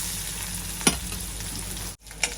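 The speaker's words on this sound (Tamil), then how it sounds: "கருவேப்பிலையும் போடுவோம் இது நல்லா தாளிப்பேன் நல்லா வதங்கட்டும்" Curry leaves and onion spluttering in hot oil make a close, steady frying hiss, with a sharp crackle near the start and a brief break near the end.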